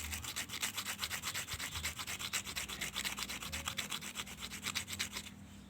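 Rhythmic back-and-forth rubbing as a Jupiter MX valve part is smoothed flat by hand, close and steady strokes of even pace that stop near the end, with no talking.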